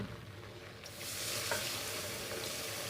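Flour being stirred in a pan to cook a roux for béchamel: a steady close sizzle of frying with soft scraping strokes, growing fuller and louder after the first second and holding there.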